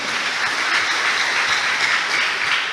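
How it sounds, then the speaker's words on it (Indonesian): A church congregation claps for God during a sermon, a dense, sustained round of applause that fills the room evenly with no voices rising above it. "Beri tepuk tangan yang meriah bagi Tuhan."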